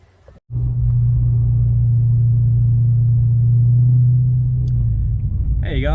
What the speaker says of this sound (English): Let's hear some Supercharger whine noises on a Sunday, eh?